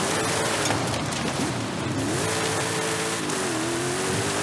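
A car engine revs inside a racing video game. The engine pitch climbs and shifts in steps over a hissy, rain-like wash, moderately loud with no talking.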